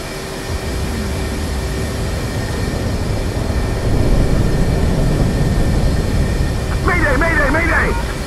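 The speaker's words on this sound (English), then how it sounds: "Mobius 1, formation takeoff." Jet aircraft making a formation takeoff beside an F-16 Viper in the DCS World flight simulator, heard as a loud, steady broadband engine roar that swells slightly midway, with a brief muffled voice-like warble near the end.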